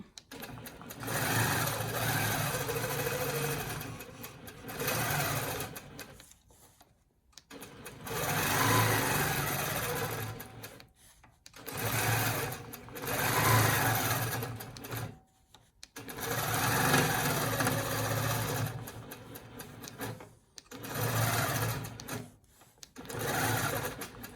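Longarm quilting machine stitching with a Pro-Stitcher, giving a quiet, fast mechanical whir in repeated bursts separated by short pauses as it stops and starts along the ruler.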